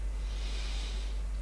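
One long, deep inhale through the nose during a Kundalini yoga session, a steady airy rush lasting just over a second, close and clear with nothing else heard.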